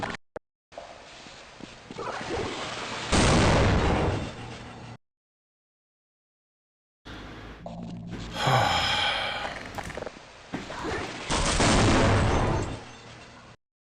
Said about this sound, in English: why don't you use the AK?